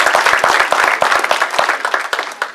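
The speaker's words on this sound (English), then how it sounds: "I think that deserves a round of applause in itself." A dinner audience at an awards event gives a round of applause, close and loud, with dense overlapping claps that gradually thin and soften toward the end.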